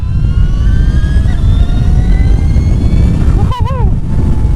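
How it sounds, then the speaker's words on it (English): An Energica Eva Ribelle electric motorcycle on the move, its motor giving a thin rising whine over steady loud wind and road rush, with a short chirping tone near the end. "This motor has a little bit of a whine, which I like."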